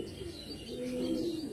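Kalsera old-line pigeons coo in a rolling, throaty phrase that swells in the second half, close by and clear, with faint higher chirps above and no voices.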